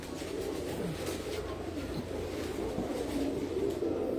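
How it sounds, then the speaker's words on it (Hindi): Pigeons kept in an enclosed breeding setup, soft low coos repeating over a dense, steady background of birds murmuring nearby. "ये कबूतर लेके आए हैं, देखें जी कबूतर"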